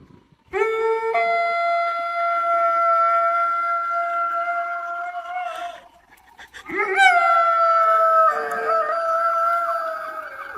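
A dog howls in long, sustained, wavering tones, one drawn-out howl followed by a short break and a second rising howl, loud and close with no talk.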